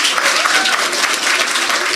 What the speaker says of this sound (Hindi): Start clapping for our contestant for the day, guys.